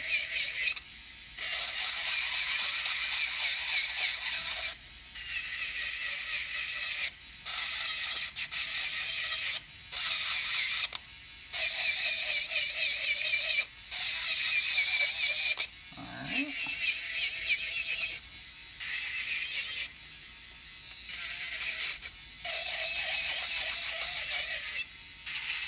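A Lumcrissy electric nail drill grinds gel polish off a nail in repeated bursts of a high, buzzing whine, each lasting a second or two and separated by short pauses, close to the listener.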